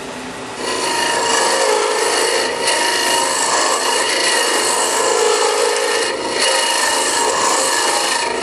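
A round-bar cutter with a 3/8 inch bar shears wood on a lathe while a birdhouse is turned, a loud, continuous rasping hiss close by with slight surges and no speech.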